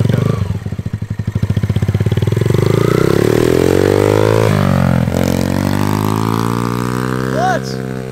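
A dirt bike engine idles with a loose putter, then revs up into a steady rising drone as a beginner pulls away, loud and close, with a brief dip and a squeaky chirp near the end.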